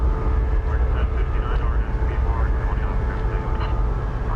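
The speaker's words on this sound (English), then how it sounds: "We've got American 2177 and Airbus A321 coming in from San Francisco." An American Airlines Airbus A321 on landing approach, a steady jet engine roar with a faint whine, fairly close, with a voice talking over it.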